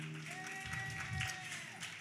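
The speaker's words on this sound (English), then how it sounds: "Can you put your hands together for our guest today?" Audience applause for guests at a community outreach session, a steady wash of clapping across the whole moment with a faint voice and room murmur underneath.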